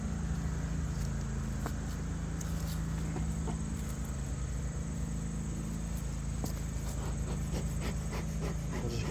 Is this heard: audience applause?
no